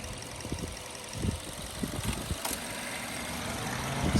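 A 2012 Mazda2 Touring hatchback idles with its air conditioning on, a faint, steady low engine hum with a few soft knocks and clicks and no talking.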